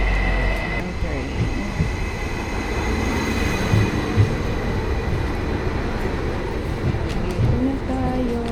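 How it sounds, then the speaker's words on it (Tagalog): A train arrives with a steady low rumble and rolling wheel noise, a few faint squeals rising near the end, close and continuous. "Dito na yung train natin."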